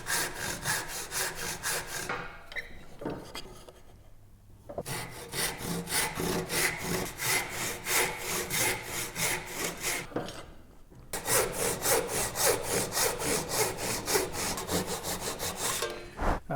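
A hand saw cuts a wooden joint clamped in a vise, with fast, rhythmic back-and-forth rasping strokes in close bursts, broken by two short pauses before the sawing resumes.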